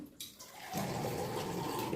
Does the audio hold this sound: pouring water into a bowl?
yes